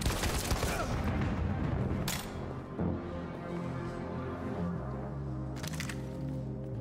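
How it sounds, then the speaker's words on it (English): Gunfire in the video game Detroit: Become Human, several sharp cracks at the start and a couple more scattered later, over a low droning music bed, fairly quiet overall. "Nice shot, Connor."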